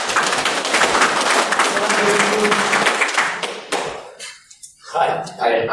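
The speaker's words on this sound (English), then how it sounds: "Round of applause, everybody." Audience applause for a volunteer coming up on stage at a cyber science magic show, a burst of clapping for several seconds that tapers off, followed by brief talk.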